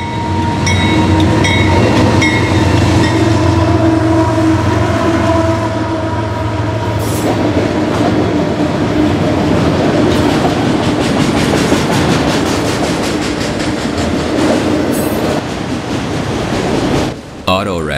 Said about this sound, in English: Auto racks were up next, being pulled by GE Power.